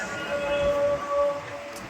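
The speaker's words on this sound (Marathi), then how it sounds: "हे बँड्राचं रेल्वे स्टेशन आहे" A train at Bandra railway station in Mumbai, a steady rumbling drone with a sustained tonal squeal or whine running through the middle, heard fairly close with no talk.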